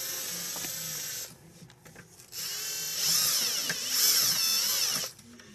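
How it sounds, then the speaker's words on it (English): A Milwaukee cordless drill whirs in bursts, with a ratcheting, rising motor pitch as it drives Jeep starter bolts, broken by short quiet pauses between runs. "I'm using a Milwaukee drill to pull these up"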